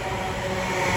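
Greater Anglia Class 720 electric multiple unit rolling into Stratford station, a steady broadband rumble of wheels and traction hum that grows slightly louder over one second, no voices.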